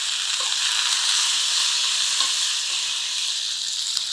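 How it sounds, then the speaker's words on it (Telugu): Curry leaves frying in the pan for a stuffed brinjal masala curry give a steady, close sizzle that runs evenly throughout. A few faint scrapes of stirring sit beneath it, and no one speaks. "దీంట్లో ఏంటంటే కరివేపాకు మస్ట్ అండ్ షుడ్గా వేసుకోవాలండి"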